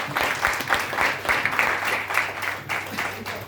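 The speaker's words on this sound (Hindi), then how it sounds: "तो जोरदार तालियां इस प्रोडक्ट के लिए" An audience claps for a product at a sales presentation, the applause steady and moderately loud for a few seconds, with a low hum beneath it.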